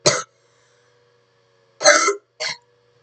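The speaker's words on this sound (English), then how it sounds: "Can't stop coughing today for some reason." A person coughs three times: one short cough, a pause of over a second, then a longer cough followed quickly by another, in a quiet room.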